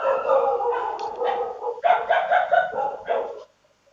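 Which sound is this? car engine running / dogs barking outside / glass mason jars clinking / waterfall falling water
dogs barking outside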